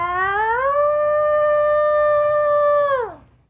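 A person imitates a wolf howl in one long, loud, tonal call that rises at the start, holds steady for nearly three seconds and then falls away sharply, heard alone and close.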